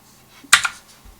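A single sharp keystroke on a computer keyboard, pressing the X key while working in 3D modelling software, a close crisp click with a brief double tap of the key's return in a quiet room.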